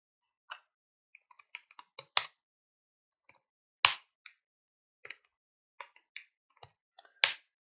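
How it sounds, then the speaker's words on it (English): Keys on a computer keyboard are tapped in scattered, hesitant bursts, with isolated sharp clicks and louder single strokes separated by quiet pauses, heard close up and alone. "I don't have the good keyboard, so I don't remember where are all the letters."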